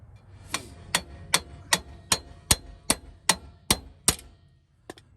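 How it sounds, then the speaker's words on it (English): Hammer striking a wheel stud to drive it out of a brake hub, about ten sharp metallic blows in a steady rhythm, loud and close, with a softer final tap. "So we're just gonna hammer this out."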